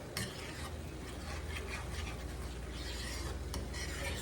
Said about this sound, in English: Reach over here and give it a stir.